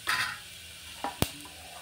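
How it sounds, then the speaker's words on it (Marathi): Finely chopped garlic and curry leaves fry in hot oil in a pan for a tempering, with a short sizzle and stirring, then a sharp clack of a utensil near the end. "हा बारीक चिरलेला लसूण टाकायचा."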